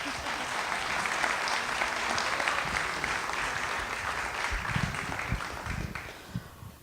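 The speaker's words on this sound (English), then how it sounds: "You can applaud now." Steady audience applause fills a televised 2016 North Dakota gubernatorial debate hall, a dense, even wash of many hands clapping that holds for several seconds before easing slightly at the end.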